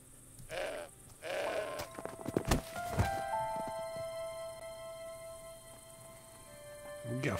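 A goat in the video game Broken Sword 5 bleats twice in quick succession, followed by a sharp thud and lingering game music tones.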